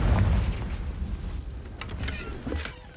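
Confringo blasting spell from Hogwarts Legacy on PC, a deep booming explosion that swells up front then rumbles and fades, with a few crackling pops trailing after.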